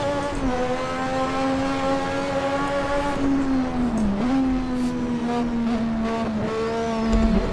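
Race car engine in the Assetto Corsa driving game, revving loudly and steadily with brief pitch dips as gears change, a sharp dip and recovery midway and a rise near the end; no voices.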